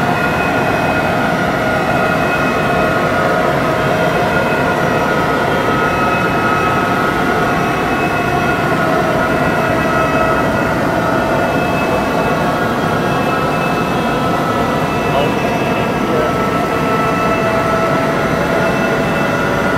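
A freight train locomotive in the Train Simulator 2018 video game, hauling a freight train toward Hamburg Maschen, gives a loud, steady rumble with faint tonal whines layered on top that holds unbroken throughout, with no talking.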